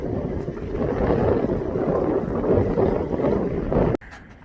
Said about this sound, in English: I had to get out of that wind.